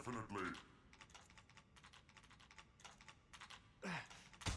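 Quick, light tapping on a computer keyboard, with irregular bursts of keystrokes close by and a few short voice sounds breaking in at the start and near the end.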